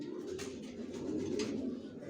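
Racer pigeons coo quietly in a loft, a soft, continuous low warble with a few brief bursts of rustling above it.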